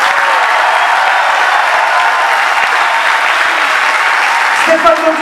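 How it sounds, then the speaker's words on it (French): Loud, dense applause from an arena crowd at a professional basketball team presentation, cheering the club's leaders in a steady continuous roar of clapping, with a brief voice near the end. "j'aimerais que vous applaudissiez d'abord les 4 piliers de notre club, de votre club, du BBD, Arnaud Kerkhoff,"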